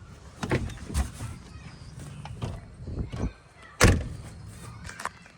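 A car door is shut with several thuds and knocks, the heaviest slam near the middle, amid handling noise and some faint background sound.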